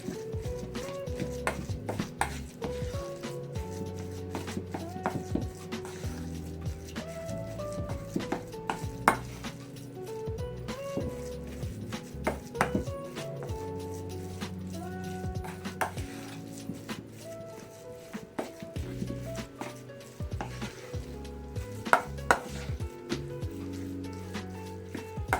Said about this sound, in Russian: У меня творог мягкий, поэтому я буду перебивать ложечкой.